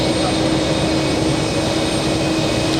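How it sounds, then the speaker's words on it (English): An Ilyushin IL-96 jet airliner carrying a delegation from Moscow, on final approach to land, produces a steady, loud broadband engine roar with a faint high whine, continuous throughout with no breaks. "we're trying to find the Ilyushin IL-96 carrying the Russian delegation to the United Nations"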